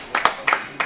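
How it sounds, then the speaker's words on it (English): Teammates at a pool championship clap for a shot, three short bursts of hand claps close by, spaced about a third of a second apart. "I like it when the teams clap and cheer each other on."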